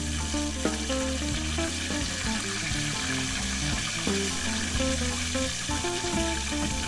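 Mini mozzarella empanadas fry in hot oil with a continuous, close sizzling crackle that stays even throughout, mixed with light background music and no talking.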